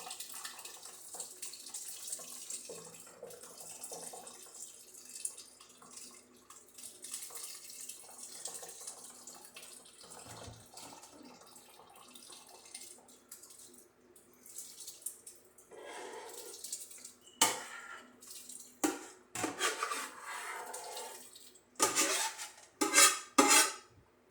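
Thick liquefied mixed berries pouring and splashing into a container for homemade wine, quiet at first, then louder gurgling bursts near the end, close by, with no talking.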